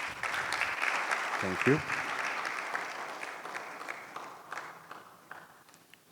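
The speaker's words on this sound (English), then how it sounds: "Another round of applause, please." An audience at a PAPSS roadshow event in Ghana applauds, a dense round of clapping that gradually fades out, with a short spoken thanks heard over it.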